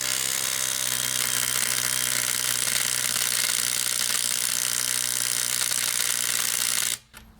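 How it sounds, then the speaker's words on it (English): Harbor Freight Hercules impact wrench running down a lug nut, a loud, continuous rapid hammering buzz lasting about seven seconds before stopping abruptly. "Then we'll run it in with the Hercules and see how much torque is required to take off that fastener."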